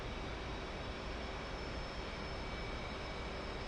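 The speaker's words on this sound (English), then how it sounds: "I'll shut down our right engine." Jet engine roar inside the cockpit of an aircraft in the DCS flight simulator game, a dense, steady whooshing drone at constant loudness across the whole stretch, with no voices.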